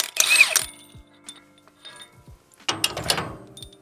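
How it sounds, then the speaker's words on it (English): A battery or air impact wrench undoes large bolts on a CBI 5800 grinder, two short rattling bursts separated by a quieter pause. "an 1-inch battery rattle gun or a 3/4 air gun"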